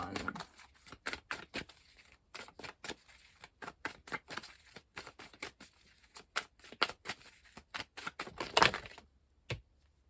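Tarot cards are shuffled and drawn in a rapid series of crisp riffling snaps and flicks, close and fairly loud, irregular in rhythm, then ending in a brief pause, with no talking.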